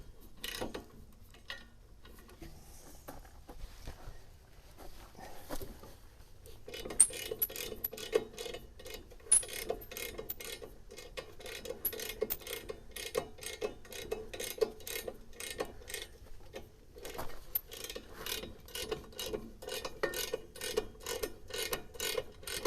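A wrench loosens a hard-to-reach bolt on a Kioti CK2610 tractor, producing rapid, fairly quiet metallic ratcheting clicks that grow more regular and continuous after a short quiet start.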